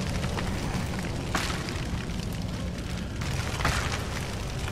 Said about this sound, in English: It caught on fire.